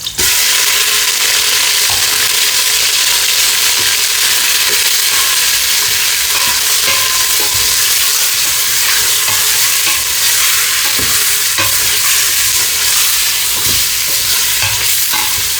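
Pork stir-frying in a hot pan, a steady loud sizzle running throughout with scraping stir strokes from a spatula, close and continuous with no talking.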